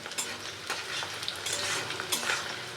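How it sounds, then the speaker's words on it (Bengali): Onions fry in a pan for an old-style home chicken recipe, a loud close sizzle broken by brisk scraping strokes of a spoon as they are stirred, with no talk. "পেঁয়াজটাকে লাল লাল করে ভেজে নেব"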